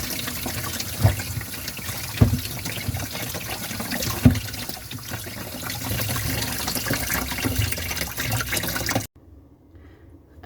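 Tap water runs steadily while a clogged bathroom sink drain is rinsed, a close, continuous splashing flow with a few louder splatters before it cuts off abruptly near the end.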